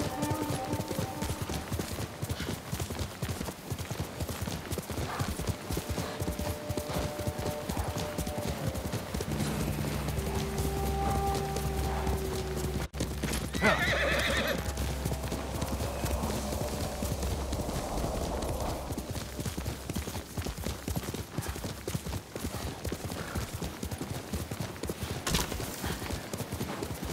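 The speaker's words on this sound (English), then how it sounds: "Good horse." Horse in the Ghost of Tsushima video game: rapid hoofbeats clatter steadily throughout, with a neigh midway, all set against in-game music and ambience.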